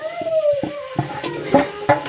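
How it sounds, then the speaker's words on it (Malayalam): Ginger paste fries in hot oil in a pan, a soft sizzle broken by several spatula strokes and scrapes, close and moderately loud, with no talking. "നമ്മളിപ്പോൾ ഇഞ്ചി പേസ്റ്റ് എണ്ണയിൽ ഇട്ടിട്ടുണ്ട് കേട്ടോ"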